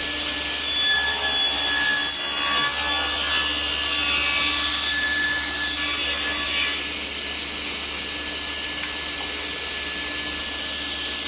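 A table saw blade rips through wooden blocks to cut notches, a steady loud whining hum of blade on wood for several seconds that fades to a quieter motor drone, with no talking.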